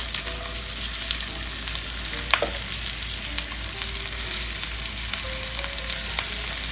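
Oxtail searing in vegetable oil inside a 4-quart STAUB Chistera cast-iron braiser, a steady dense sizzle and crackle throughout with scattered sharper pops and faint clinks, no talking.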